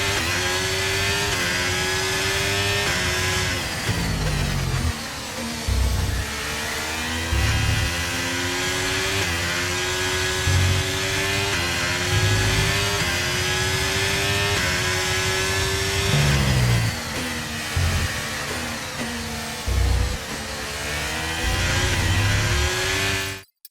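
A Formula 1 car's engine howls at high revs at Imola in the F1 23 racing game, a continuous loud whine with brief dips and surges as the car shifts gears and brakes into corners.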